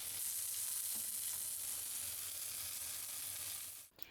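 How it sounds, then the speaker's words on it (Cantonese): Food pan-frying on both sides over medium heat in a wok, a steady broadband sizzle filling the clip at an even level, then dropping out abruptly near the end with a brief clatter. "跟住先放落鑊咧，就用中火煎香兩邊啦"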